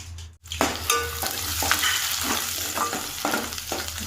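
Curry frying in a pan at home, with turmeric going in: continuous close sizzling and crackling under repeated scraping strokes of a spoon, fairly loud and busy throughout, no talk.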